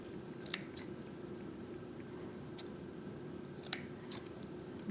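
Scissors trim a cotton beard on a small gnome finger puppet, giving a few soft, crisp snips over steady room hiss.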